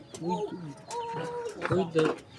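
Pigeons coo in a few soft, rolling phrases close by, with people talking quietly in the background between the calls.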